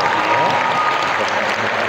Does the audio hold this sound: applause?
yes